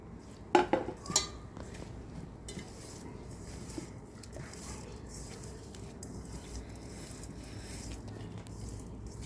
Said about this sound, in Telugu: దీంట్లో కొంచెం అన్నం కలుపుకుంటున్నామండి